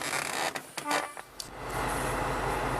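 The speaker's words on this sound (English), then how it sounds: "I got the engine running here" A Hummer H1 truck engine cranks and catches, with a few short bursts at first, then settles into a steady, loud idle that continues to the end.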